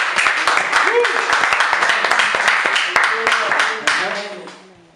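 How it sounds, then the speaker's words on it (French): A church congregation claps and applauds in praise, brisk irregular hand claps filling the room alongside raised voices, then tapering off toward the end. "Acclamons le Seigneur"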